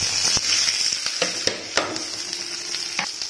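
Onion, curry leaves and chilli sizzling with mustard seeds in hot oil, a bright continuous crackle up close, broken by a few sharp scrapes and taps of a stirring spoon, nobody talking.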